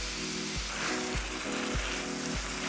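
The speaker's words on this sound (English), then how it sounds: "you'll want to brown this meat for about 7 to 10 minutes until it's well browned and seared all over" Beef chunks for stew sear and brown in a hot pan, giving a steady, close sizzle with soft periodic thumps as the meat is shifted.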